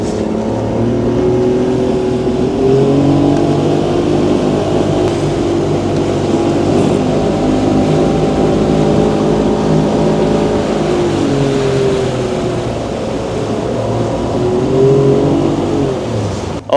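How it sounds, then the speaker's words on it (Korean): The engine of an Aquamarine K450 catamaran fishing boat drones steadily while the boat turns, a loud, close motor hum with slight pitch shifts as the revs rise and fall. "한번 어떻게 이 보트가 선회를 하는지 한번 지켜봐 주세요"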